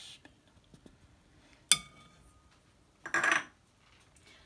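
A metal spoon clinks against a bowl a couple of times while chicken strips are mixed with olive oil and yellow food colouring, with short scraping and stirring sounds, close and fairly quiet, amid soft background noise.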